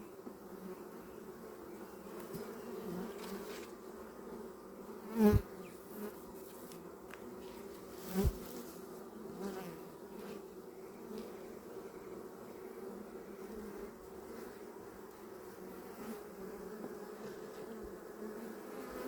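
Honeybees buzz steadily in a low, continuous drone throughout an open hive inspection on a small farm, with a couple of brief louder knocks or bumps from handling the frames partway through.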